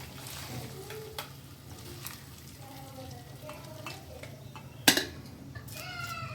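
Heated oil poured into a pan while cooking shavige bath, with low steady sizzling and frying under a few stirring scrapes, a sharp clink near the end and faint brief voices in the background.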